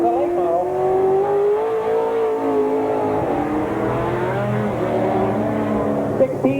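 A late model race car on slick tires runs a speedway at night, its engine droning steadily and loudly throughout, rising and falling in pitch as it laps, with a commentator's voice over the top.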